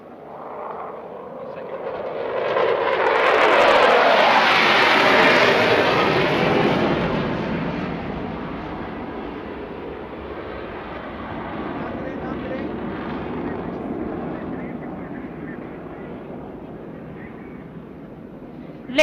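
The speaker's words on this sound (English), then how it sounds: "as the third fighter jet races towards the venue, its thunderous approach echoes unwavering resolve" A Pakistan Air Force fighter jet roars past at an opening ceremony, its thunderous engine swelling to a loud peak and then fading into a long rumbling tail, with a voice over the noise.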